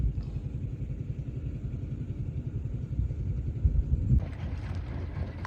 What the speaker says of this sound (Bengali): ট্রলার মনে হয় আসলো